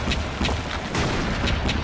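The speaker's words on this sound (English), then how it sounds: "you can hear them firing off the cannons in the near distance" Cannons fire in rapid repeated volleys from a short distance in a One Piece anime battle scene, a steady series of rumbling booms over a dense roar.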